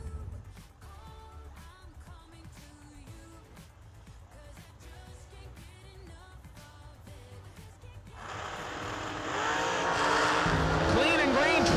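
A drag-racing dragster launches down the strip at a New Year Nationals event, its engine building to a loud, sustained roar in the final seconds after a stretch of announcer commentary.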